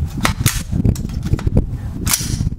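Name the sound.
M16 rifle gunshots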